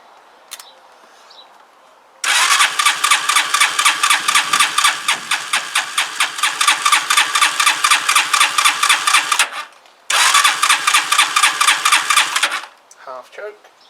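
A Zontes Tiger 125 motorcycle cranks over repeatedly without firing, a loud, rapid, rhythmic starter whir running for several seconds, stopping briefly, then cranking again before cutting out.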